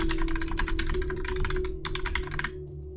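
Fast keyboard typing in the typing game Tranquil Builds: rapid bursts of close, crisp key clicks with a short pause before a final flurry that stops abruptly.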